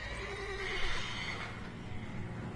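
A horse in The Witcher 3 video game whinnies with a rising, shrill neigh, close and fairly loud over a steady background hum, then the call fades out.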